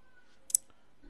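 A single crisp mouse click, faint and close, in an otherwise quiet room.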